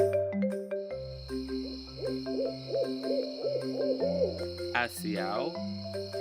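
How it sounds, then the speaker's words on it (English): An owl hoots in a run of about seven evenly spaced calls over a musical backing, part of a children's animal story. "Asked the owl."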